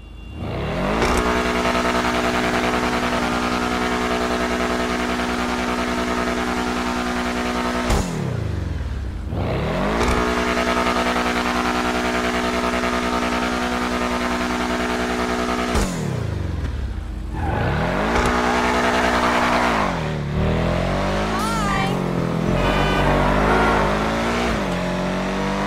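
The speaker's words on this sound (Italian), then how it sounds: "Adesso vi farò sentire il rumore del motore di quest'auto." A Benefactor Schlagen GT sports car engine revs repeatedly in GTA 5 Online, each long climbing whine cutting off sharply before rising again, loud and alone.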